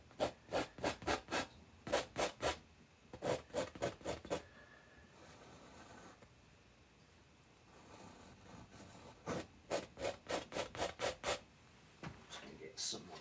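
Paint scraped across an oval winter mountain painting: quick, close rasping strokes come in rhythmic bursts of four to six, with a quiet pause in the middle before the strokes resume.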